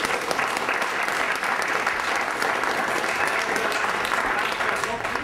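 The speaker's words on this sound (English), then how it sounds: "A big applause." Conference audience applauding the speakers, steady dense clapping at close range that holds at an even level throughout, with no pauses or talk over it.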